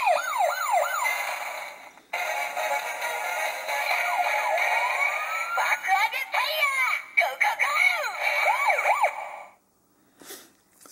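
BoonBoomger DX Boonboom Change Axe toy sounding its electronic transformation effect, with sweeping siren-like electronic tones and bright toy music played loud and close, then cutting off briefly before a short final burst.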